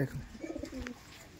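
An Andhra pigeon at a loft gives a short, soft coo at close range, a brief murmuring call lasting under a second amid quiet surroundings.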